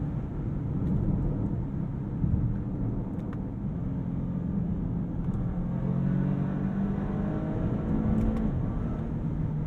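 A 2022 Bentley Flying Spur Hybrid accelerates hard, its engine note rising steadily through the gears with quick downshifts, a loud, continuous drone heard from inside the cabin with no talking.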